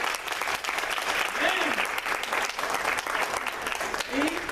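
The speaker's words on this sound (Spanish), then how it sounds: "Denle un fuerte aplauso a Mario." Church congregation applauding after a baptism, with the steady broadband clapping of a crowd filling the whole stretch, loud and continuous, with a few voices and cheers mixed in.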